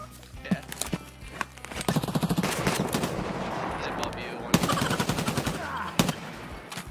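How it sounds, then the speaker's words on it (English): Rapid automatic gunfire rattles in an online shooter game battle, with bursts of near and distant shots in dense volleys, while players talk over the fighting. "Why have you guys gotta shoot at us?"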